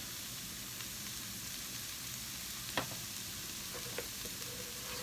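Steady soft sizzle of food sautéing in a pan for a potato bake, a continuous hiss with a few faint utensil clicks and taps, heard alone at moderate volume.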